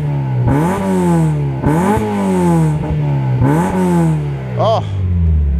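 A 1991 Mazda MX-5 Eunos 1.6 with a 14-inch USDM cherry bomb exhaust revs hard several times, each loud rising blip dropping back to a rumbling idle, close up and sharp.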